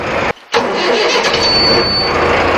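A Mahindra 4x4 tractor engine cranks, cuts out for a moment, then catches and roars into a loud, continuous diesel rumble, heard close up with no talking.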